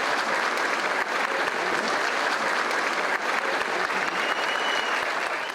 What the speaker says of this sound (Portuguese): Queria pedir vocês uma salva de palmas também para o nosso grande Paulo Caruso.